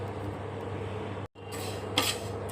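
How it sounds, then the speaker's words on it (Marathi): Urad dal roasting in a pan after curry leaves, heard as a continuous gritty scraping and clinking of a utensil stirring dry lentils against metal, close and steady, broken by one brief pause and a brighter scrape near the end. "आता घेऊया उडदाची डाळ भाजून, चांगली लालसर भाजायची"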